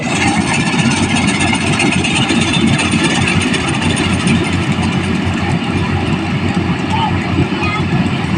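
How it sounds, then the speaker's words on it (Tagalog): A corn harvesting machine's engine runs steadily nearby, a loud, constant mechanical drone with a rough low rumble, while people talk over it. "Yan ang makina nila. Papasok yung mga mais na yan."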